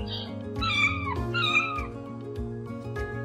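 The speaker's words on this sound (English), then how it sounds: "22 fluffy kittens." A kitten meows twice, high and plaintive, over a soft instrumental backing.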